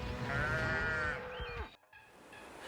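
A ram gives a single long, loud, wavering bleat close by. The call fades out, and a short quiet gap follows.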